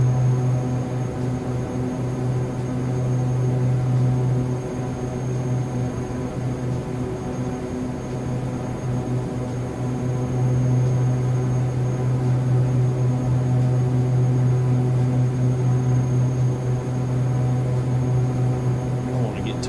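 Airbus A330-900 engines in Microsoft Flight Simulator 2020 give a steady, loud cabin drone with a constant low hum and a faint high whine, holding level throughout with no voices.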